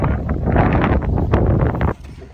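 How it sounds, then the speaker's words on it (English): Strong gusty wind buffets the microphone with loud rumbling blasts, then suddenly drops off near the end. "It's so windy, I stopped because they're just blowing over"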